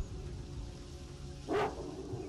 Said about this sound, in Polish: Wow, co to? Jakiś pieseł.